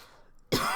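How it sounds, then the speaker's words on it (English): A single sharp cough bursts out abruptly after a moment of near silence, loud and close. "I'm going to cough throughout this because I choked on something."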